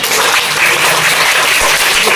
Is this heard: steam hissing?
no